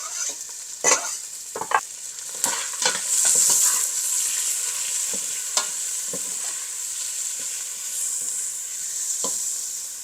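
Lemongrass, onions, garlic and lime leaves sizzle in a pot for Vietnamese spicy beef stew (bò kho), a steady close hiss broken by scattered clinks and scrapes of stirring.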